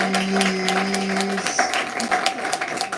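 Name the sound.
audience applause for a speaker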